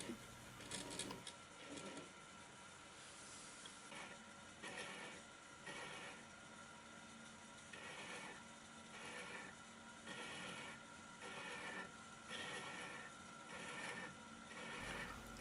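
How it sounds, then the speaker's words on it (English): A hand-held thread-chasing tool cuts a thread on a lathe, giving faint repeated rasping scrapes in regular passes, each a second or so long, over a low steady mechanical hum, with no voices. "so we can start to chase the thread"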